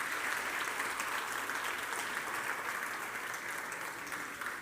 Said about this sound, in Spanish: Denle un aplauso ahora al Señor.